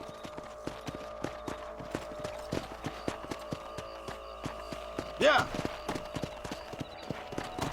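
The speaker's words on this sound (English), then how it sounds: "Let's get back on the horses and see what else is going on." Horses in the Red Dead Redemption Western game clip-clop at a steady walking rhythm, the hoofbeats close and even, with a brief snort or whinny midway and a short spoken word.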